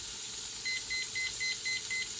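A kitchen timer chirps out a steady run of short, evenly spaced electronic beeps while it is being set, close and clear over quiet room noise, with no talking.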